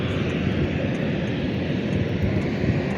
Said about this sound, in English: That one for Kenya Airways. Embraer 190.